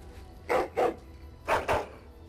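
In the video game Dragon Age: Origins, a dog barks four times in two pairs, each pair of sharp barks quick and close together, clear against a quiet background.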